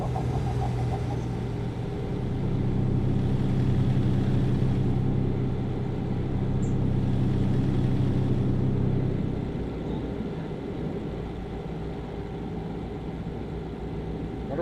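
A diesel truck engine in the video game American Truck Simulator, driving in Wyoming, drones loudly at high revs with a low steady rumble that eases off toward the end, heard alone without talk.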